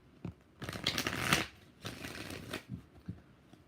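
Tarot cards shuffled by hand in a few quick riffling bursts with small taps between them, close and quiet.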